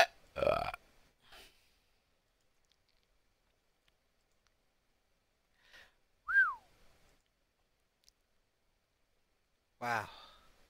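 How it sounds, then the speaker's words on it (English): A single burp sounds near the end, after a few short mouth noises and a brief squeaky whistle-like sound, with long stretches of quiet between. "The burp, not what I actually had."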